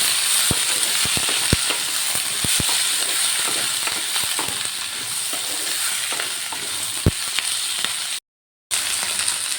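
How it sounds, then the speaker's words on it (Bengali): Spring onion stalks cut into long pieces frying with onion in a pan, a loud continuous sizzle and hiss punctuated by sharp clicking pops and stirring clatter, close and without talk. "এবার সব কিছু ভালো করে ভাজা ভাজা করে নেব"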